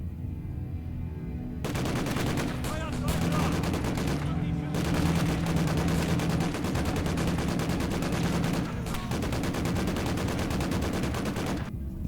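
Sustained machine gun bursts from the World War II game Gates of Hell, set on the Eastern Front, with rapid continuous fire under dense battle noise and a couple of short pauses.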